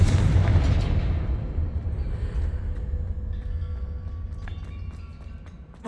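A Confringo spell blast in Hogwarts Legacy: a loud, deep explosive boom that rumbles on and slowly fades, with faint magical chimes and crackles later in the tail.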